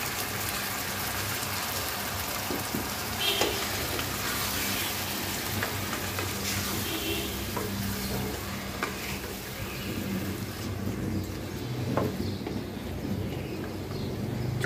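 Marinated chicken pieces sizzle and fry in a pan with fried onions and dried chillies, a steady crackling hiss with occasional stirring scrapes and clinks, fairly quiet and without talk.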